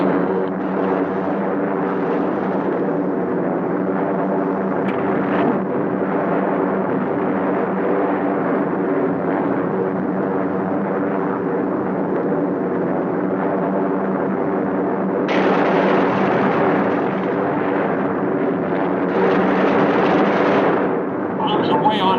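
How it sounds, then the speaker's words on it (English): Bombs from B-17 Flying Fortresses exploding over Gdynia harbor, heard as a continuous heavy, rumbling roar of blasts and aircraft drone that swells louder near the end, with a voice speaking over it. "Bombs away on primary at 1142 hours."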